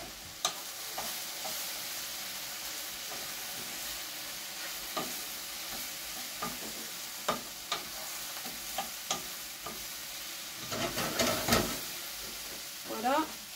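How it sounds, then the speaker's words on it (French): A small spoon stirs mushrooms in a pan. Soft scraping strokes come at intervals over a constant low sizzle, with a busier flurry of stirring near the end. "Je touille un peu mes champignons."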